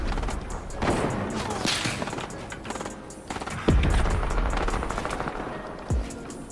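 Video game gunfire rattles in dense, loud bursts of rapid shots with a few heavier impacts, filling the whole stretch without pause.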